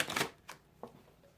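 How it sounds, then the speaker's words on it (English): A tarot deck being shuffled close up, a soft riffle followed by a couple of quick papery slaps, quiet and without speech. "going into this deck as I shuffle"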